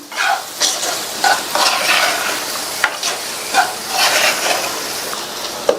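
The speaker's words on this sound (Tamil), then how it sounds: "ஒரு பெரிய கேப்சிகத்தை கியூப்ஸா கட் பண்ணி இதுல சேர்த்துட்டு நல்லா இதுல பிரட்டி விட்டுக்கலாம்" Capsicum cubes tossed with masala in a pan on the stove, frying with a steady sizzle broken by repeated stirring scrapes and spoon knocks, close and fairly loud with no talking.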